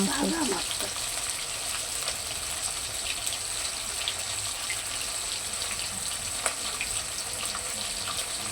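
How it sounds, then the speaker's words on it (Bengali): Steady sizzling of hilsa fish frying in mustard oil throughout, with a faint voice briefly at the start and occasional light clinks. "মাছটা ভাজবে বলছে কয়েকটি ভাজা করবো"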